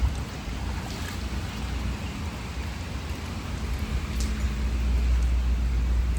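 Rain falling, a dense continuous hiss with a low rumbling undertone, steady and fairly close, growing slightly heavier toward the end; a voice briefly exclaims.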